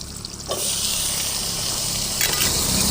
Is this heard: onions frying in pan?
yes